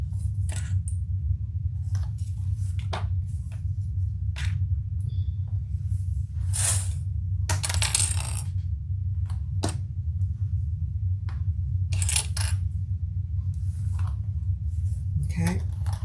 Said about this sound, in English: And then just clip it all the way around.